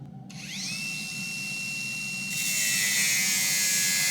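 A power saw bites into a stack of four steel pieces clamped in a vise for a Damascus hunting knife, its motor whining up to a steady high pitch and then cutting harder with a louder, rasping tone.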